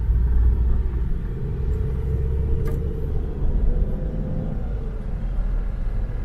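A Toyota Land Cruiser VX-R 80 engine drones steadily while the vehicle drives, a continuous deep rumble of road and motor noise from inside the cabin with no voices.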